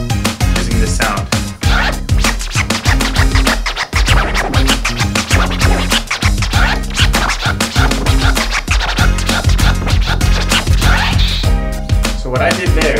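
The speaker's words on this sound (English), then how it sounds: "I'm going to go ahead and show you the different type of scratches you can get with the right hand" A DJ scratching a record on a turntable, loud rapid back-and-forth scratches cutting over a continuous beat-driven music track, close and busy throughout.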